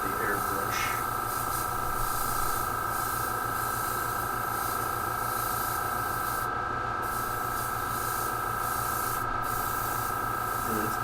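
An airbrush sprays paint onto a hobby model in a continuous close hiss with a steady hum beneath, broken by a couple of brief pauses, while someone talks over it.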